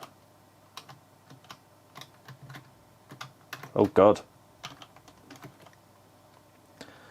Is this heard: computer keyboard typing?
yes